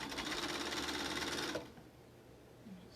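Sewing machine running steadily as it stitches along the edge of a fabric mask, a close, continuous whir for about a second and a half before stopping, leaving quiet room tone.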